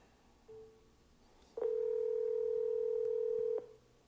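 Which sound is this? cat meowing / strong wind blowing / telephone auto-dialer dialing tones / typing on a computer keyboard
telephone auto-dialer dialing tones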